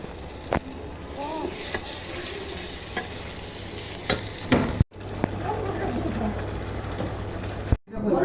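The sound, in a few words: spices frying and being stirred for chicken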